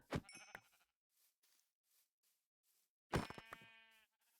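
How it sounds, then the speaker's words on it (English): Sheep in the Minecraft video game bleat twice, a short call near the start and a longer wavering bleat later, with quiet gaps and faint soft clicks between. "Finally got some sheep."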